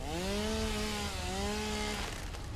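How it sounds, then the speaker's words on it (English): A chainsaw in the Satisfactory game runs with a loud, steady buzzing whine that dips briefly in pitch midway, then rises again before cutting into a rougher noise near the end. "now we finally got the chainsaw working"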